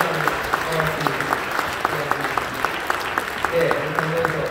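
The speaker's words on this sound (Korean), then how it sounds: "우리 장로님들 여러분 축하하며 박수 한번 해주시죠." Applause from a church congregation at an ordination service, a steady crowd clapping that fills the room evenly, with a voice speaking briefly over it.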